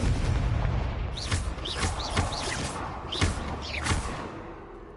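A blast spell from the Hogwarts Legacy video game fires as a series of sharp booming impacts with whooshing tails, about six hits spaced under a second apart over a rumbling background.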